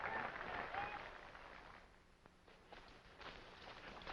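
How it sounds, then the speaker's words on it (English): A crowd at a coach race cheers for the Barrowby coach's win, a broad, distant roar with scattered clapping and shuffling that swells and ebbs over a few seconds, with faint voices mixed in. "They're cheering now because of Barrowby won."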